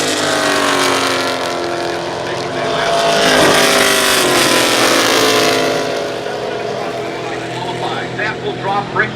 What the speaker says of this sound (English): Fast cars on the racetrack right now